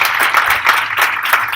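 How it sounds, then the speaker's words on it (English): Audience clapping for a woman rising from her seat at a product presentation, a short burst of lively, fairly close applause with distinct individual claps. "Please, Brenda, rise and give her a round of applause."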